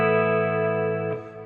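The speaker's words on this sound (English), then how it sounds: "I'm going to stick on the reverb, and the reverb's on the modulated setting" An electric guitar chord rings out sustained through a reverb pedal on its modulated setting, a bright shimmering tone that holds for about a second before a second strum shifts the notes and it begins to fade.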